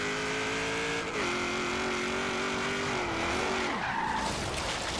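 A 1956 Ford F100 truck with a 6.2 engine driving in Forza Horizon 3, its steady engine drone shifting pitch as it slows and revs, with a tire skid near the end, loud and continuous with no talk.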